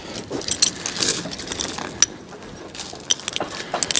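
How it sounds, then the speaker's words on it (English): Metal chains being put on a hickory log outdoors make loose jangling and clinking, with sharp metallic chinks scattered irregularly over a rustling background, moderately close. "So I'm gonna get the chains on before I cut this."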